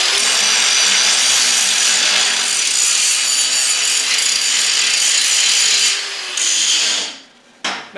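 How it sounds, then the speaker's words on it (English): Rough-grit angle grinder scrubbing mill scale off steel before MIG welding, a loud continuous abrasive grinding rush close by that dips near the end and then stops. "I got a really rough grit angle grinder on there"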